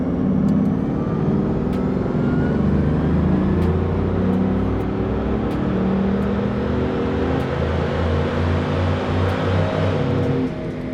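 Bugatti engine at full throttle in fourth gear on a dynamometer, a loud, continuous mechanical roar with a slowly rising pitch, steady throughout with no talking.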